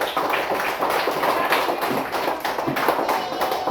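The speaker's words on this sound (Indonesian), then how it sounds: "Tepuk tangan untuk kelompok 4." A class of students in an Indonesian classroom claps for a group of classmates, a close, dense patter of many hands with uneven bursts and thumps that continues steadily throughout.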